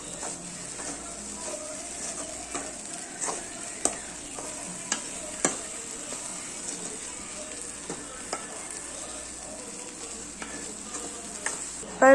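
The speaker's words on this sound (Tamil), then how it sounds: "கொஞ்சம் கிண்டி விட்டுக்கலாம்" Kothu chappatti fries in a pan under a soft, continuous sizzle, with occasional sharp spatula taps and scrapes as it is stirred; fairly quiet and close, no speech.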